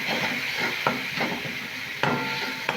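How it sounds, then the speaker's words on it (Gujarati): A semolina snack mixture with paste just added is stirred in a pan, giving a steady soft scraping swish with a few sharp utensil knocks against the pot, close and moderately loud with no talking. "હવે આ બધું જ આપણે હલાવી દઈશું।"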